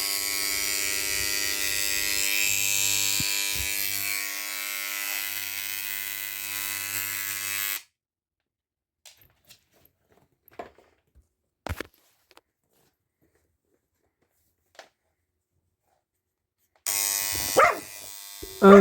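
An electric engraver runs with a steady high-pitched buzzing drone, then cuts off into near silence broken by a few faint knocks before switching back on at the end.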